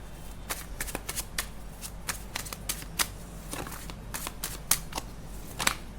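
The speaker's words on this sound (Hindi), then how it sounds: "अब थोड़ी सी शफल करने के बाद ये कार्ड गिरा है" Tarot cards being shuffled by hand, a quick series of soft riffling slaps and flicks, close and fairly quiet with no talking.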